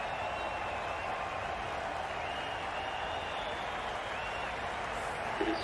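A stadium crowd at DY Patil Stadium applauds steadily throughout an IPL cricket match between MI and RR, with sustained, even clapping and faint background noise heard at a distance.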